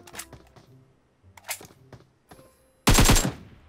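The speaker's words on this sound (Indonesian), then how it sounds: "Tembak apa lo, bro?" Gunfire in the battle royale shooter PUBG, a few scattered sharp shots followed by a loud, dense rapid burst near the end, over faint game ambience.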